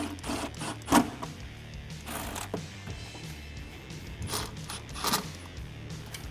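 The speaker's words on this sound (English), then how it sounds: "then tighten down your clamp" Clamps being tightened on cold air intake coupler tubing for a 2019-2020 RAM 1500 5.7L, heard as scattered close mechanical clicks and creaks with a sharp rattle near the start and another burst later, no talking.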